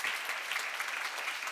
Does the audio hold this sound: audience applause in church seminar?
yes